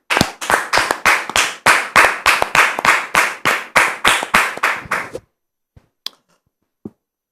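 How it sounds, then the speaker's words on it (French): Studio audience on a TV talk show claps to welcome a guest, a burst of sharp, rhythmic handclaps for about five seconds, then stopping abruptly with a few stray claps after. "On le reçoit sous vos applaudissements."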